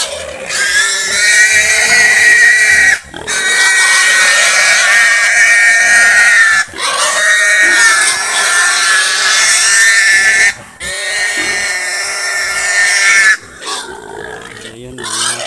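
A pig squeals loudly and close, in long shrill sustained cries broken by a few short pauses, nearly continuous for the whole stretch.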